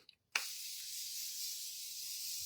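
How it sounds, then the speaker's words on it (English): One sustained hiss of makeup setting spray misted from a bottle, starting sharply after a short click and holding steady and close for about two seconds. "we're going to go ahead and do our setting spray again"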